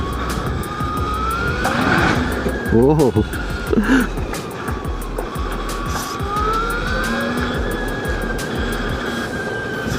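Ultraviolette F77 electric motorcycle accelerating hard in its fastest mode, a rising whine building over rushing wind noise, loud and close, with the rider exclaiming and talking over it.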